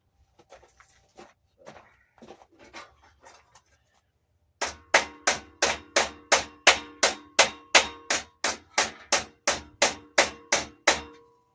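After a few quiet scattered knocks, a hammer strikes a metal car hood in a steady run of about eighteen evenly spaced, ringing taps, close and fairly loud.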